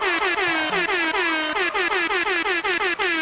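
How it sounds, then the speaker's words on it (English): Repeated blasts of an air horn sound effect in a rapid, rhythmic sequence of short, loud honks with falling pitch, close and alone with no talking. "More air horns."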